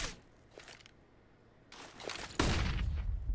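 A grenade going off during a professional Counter-Strike match between BIG and Heroic, with brief distant gunfire pops followed by a loud, broad burst that rings on to the end.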